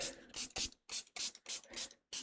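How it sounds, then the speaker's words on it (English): A spray bottle misting paper with water for a mixed media art piece, about seven short, hissing bursts in a quick, even rhythm, close and fairly quiet, with no talking. "So then we're going to mist our paper with a little bit of water."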